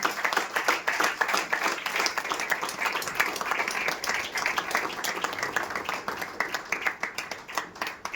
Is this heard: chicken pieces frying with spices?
no